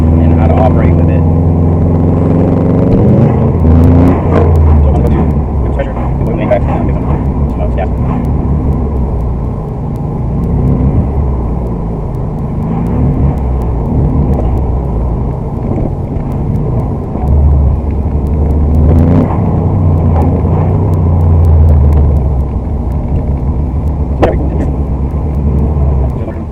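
A Subaru WRX engine idles and runs with a blow-off valve fitted, a loud, steady low rumble with slight rises in revs, while someone talks over it for much of the time.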